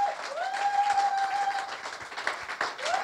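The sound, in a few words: audience applauding for the Lord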